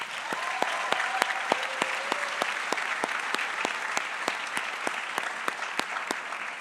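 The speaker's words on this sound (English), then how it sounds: "Let's give them a big round of applause." At the John J. Duggan Academy's 2023 graduation ceremony, an audience applauds steadily, a dense, even wash of clapping punctuated by sharp individual claps, with a faint voice or tone briefly rising above it early on.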